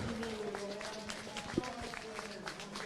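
At Auteuil racecourse, a crowd applauds faintly and from a distance, a thin, steady patter of clapping mixed with background murmur and voices.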